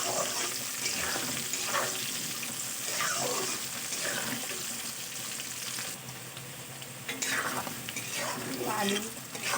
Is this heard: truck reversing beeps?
no